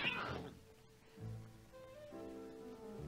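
Cats meowing in a dramatic film scene, a brief yowl at the start that gives way to soft music-like tones, fairly faint throughout.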